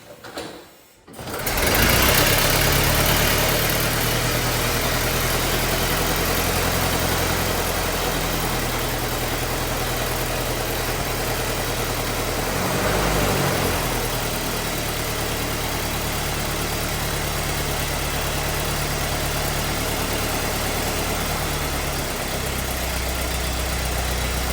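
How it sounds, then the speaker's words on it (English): A Model T Ford engine idles steadily and close by after starting in an evening workshop, a continuous loud chugging with a brief dip near the start and a slight surge midway. "see if we can get it started."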